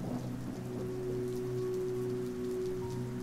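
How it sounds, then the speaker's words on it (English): Steady rain falls on surfaces in a continuous, even wash during a storm, with a low hum underneath and no clear thunderclap; no voices. "a fierce storm arose, complete with rain, lightning, and thunder"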